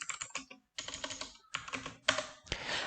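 Close, brisk typing on a computer keyboard, with bursts of rapid key clicks separated by short pauses and no voice over them.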